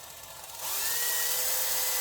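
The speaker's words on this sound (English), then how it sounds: "I have to die grind this out so that it'll take" A die grinder spins up on a metal part and grinds steadily with a high, loud, continuous whine that stays level after a brief softer start, with no voices.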